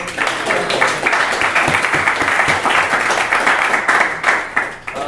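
Dense audience applause fills the room at a value proposition design meetup, steady and loud throughout with no voices.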